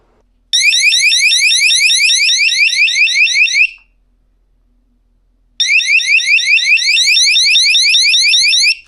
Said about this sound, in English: give you an alarm that goes off, an audible alarm if you happen to be home